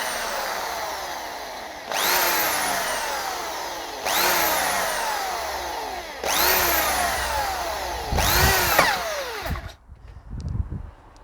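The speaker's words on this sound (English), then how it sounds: "and then I'll take my drill" A power drill bores into clamped field maple wood in four rising whines, each a few seconds long with a short pause between, loud and close, ending with some knocking.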